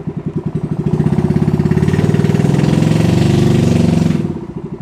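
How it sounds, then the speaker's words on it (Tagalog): A boat engine on a Filipino traditional fishing trip runs loudly and close by, its rapid steady pulsing swelling in and then fading out at the end, with no voices over it. "Kusgan gyud ka ang makina oy."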